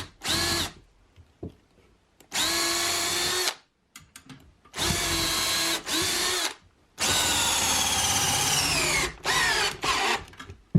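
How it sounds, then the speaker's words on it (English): A power drill pre-drills wood for a wall-mounted workbench in several loud bursts of a few seconds each, whining up and down in pitch with brief quiet pauses between. "I'm also going to pre-drill using this same bit that was used for the ledger board here"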